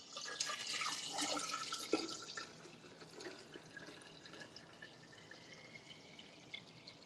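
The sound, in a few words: water poured into lemon juice and agave mixture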